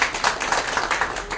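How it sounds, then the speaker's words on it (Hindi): An audience clapping at a church talk on fasting, a brief run of steady hand claps, moderately loud and alone. "ताली बजा सकते हैं फिर से।"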